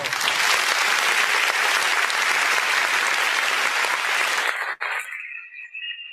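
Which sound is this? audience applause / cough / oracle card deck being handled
audience applause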